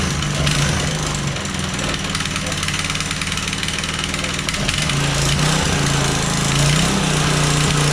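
An old Honda motorcycle engine idles loudly up close, a steady rough thrum with a knocking pulse from the exhaust and a loose gas tank, and a voice speaks briefly over it.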